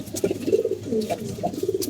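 Molting pigeons cooing in soft, repeated throaty burbles, fairly close, with several overlapping calls.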